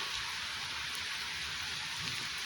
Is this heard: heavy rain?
yes